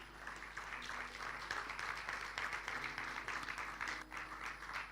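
A church congregation applauds the Lord, a faint, steady wash of many hands clapping together, heard at a distance without pause.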